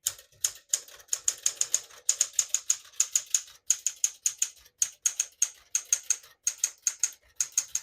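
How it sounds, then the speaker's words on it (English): Keys clack on a 1963 Smith-Corona Sterling portable typewriter, crisp close strikes in quick irregular bursts with short gaps between words, playing alone without any talk. "I'll type a sentence in red on the next line"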